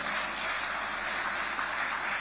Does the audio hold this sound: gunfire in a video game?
no